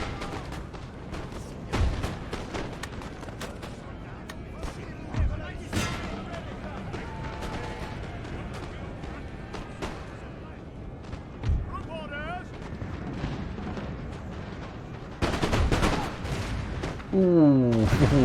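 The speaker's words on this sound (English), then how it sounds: "Ooh, those cannon shots are perfect." Cannon fire in the Napoleonic battle game Napoleon: Total War booms repeatedly amid a din of battle gunfire, some shots sharp and close, others distant, with in-game voices calling out over the fighting.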